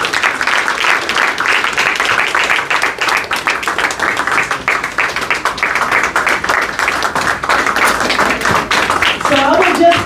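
A crowd at a Boston election victory speech claps steadily for several seconds, a dense patter of many hands with a few voices mixed in.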